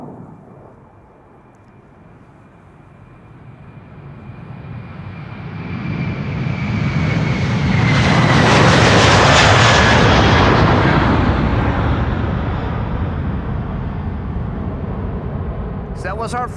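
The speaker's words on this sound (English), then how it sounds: "KLM flight 787, not a Dreamliner, but an A330-200." A 19-year-old KLM Airbus A330-200 airliner passes at Amsterdam Schiphol Airport. Its engine roar swells from quiet to a loud peak midway, with a falling whine, then slowly fades.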